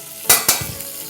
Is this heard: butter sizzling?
yes